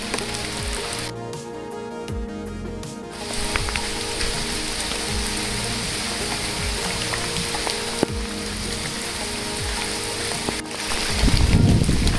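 Heavy rain falling outdoors at Jarandeshwar, a dense steady hiss of drops on surfaces, fairly loud and continuous, with a few brief knocks and a louder spatter near the end.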